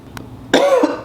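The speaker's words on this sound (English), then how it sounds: "I've been coughing all fucking class." A single sharp cough from a person in a classroom, close and fairly loud, comes after a faint click.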